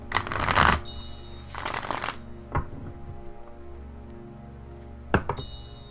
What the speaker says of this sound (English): let me give me a second to shuffle it a few times.